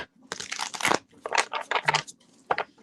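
Tarot cards being shuffled by hand, a run of dry crisp riffling and rustling bursts up close, with brief pauses between flurries.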